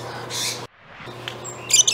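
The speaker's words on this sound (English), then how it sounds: "Birds." Birds squawk in two harsh bursts, one near the start and a sharper pair toward the end, over a low steady hum with a brief gap of silence between.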